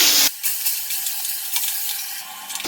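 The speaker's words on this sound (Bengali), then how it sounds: "আলু এরকম ছোট ছোট করে কেটে রেখেছিলাম আর নুন হলুদ মাখিয়ে রেখেছি সেটা ভেজে নিচ্ছি" Small potato pieces coated in salt and turmeric fry in hot oil with a loud, continuous hissing sizzle, briefly interrupted near the start, close up and alone.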